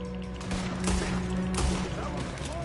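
Gunfire in a PS4 video game, dense bursts of shots and rattling fire under a steady din of battle noise, loud and continuous throughout.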